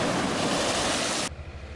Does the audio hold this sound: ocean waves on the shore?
yes